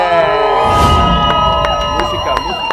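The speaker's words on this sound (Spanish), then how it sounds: "un fuerte aplauso al señor David Imonitie." A crowd cheers and applauds loudly and continuously, with whoops rising over music playing underneath.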